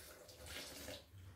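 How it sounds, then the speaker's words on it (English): Clean water is poured into a glass while a homemade avocado, banana and passion fruit smoothie is being made, giving a faint, continuous splashing trickle that runs for about a second. "Add 1 glass of clean water."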